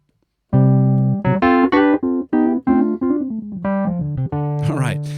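A piano plays a left-hand bass line with suspended shell chords, rolling up to a target note. Low notes sound one after another in a steady rising sequence, clear and fairly loud, ending with a higher flourish.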